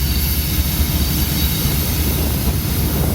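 A loaded coal train rolls past in Dallas, Texas, producing a steady, loud low rumble and a broad mechanical roar that holds evenly throughout, with no voices.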